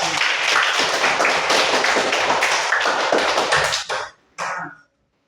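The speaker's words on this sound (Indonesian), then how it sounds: "Tepuk tangan semua." Students clapping their hands together in a classroom, a loud, busy patter of many close claps that stops abruptly, followed by one brief late burst.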